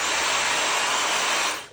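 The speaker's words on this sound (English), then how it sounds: "My hairdryer, I'm using a diffuser." Hairdryer fitted with a diffuser blowing steadily, a close, loud airy whoosh with an even motor hum that holds for under two seconds before cutting off.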